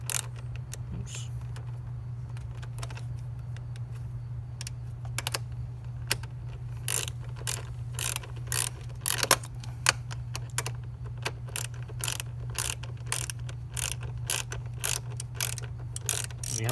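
A ratchet wrench with a 13mm socket tightens exhaust bolts on a Honda CB300R fitted with an Akrapovic system, its close, rapid metallic clicking coming in repeated bursts that grow denser toward the end over a steady low hum.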